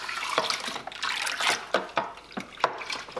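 Water sloshing and splashing in metal cans from a home brew lager kit as they are rinsed out, a run of irregular wet splashes and pours, close and moderately loud with no talking.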